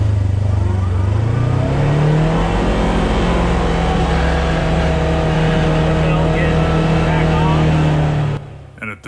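A Kawasaki KRX side-by-side fitted with a new clutch kit accelerating hard for a 0-60 run, a loud close engine roar climbing in pitch then holding high before easing off at the end.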